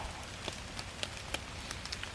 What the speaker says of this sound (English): So, rain yesterday, rain today.